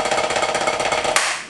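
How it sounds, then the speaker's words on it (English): Snare drum open stroke roll played with a drop-catch technique, a rapid, even stream of crisp strokes, loud and close, ending with one sharper accent. "the open stroke roll, or what's commonly referred to as open style playing, which sounds something like this."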